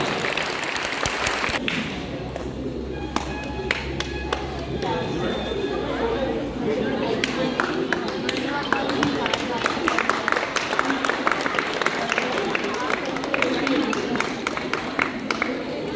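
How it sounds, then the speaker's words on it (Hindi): Crowd applause and chatter at a sports day carnival closing and prize distribution ceremony, steady clapping mixed with voices and background noise throughout, with a voice over it. "और तालियां उतनी जोरदार।"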